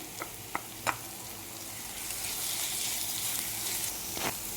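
Onions and crushed shallots frying in a pan for a mutton biriyani, a steady close sizzle with a few sharp clinks and stirring knocks at the start and another near the end.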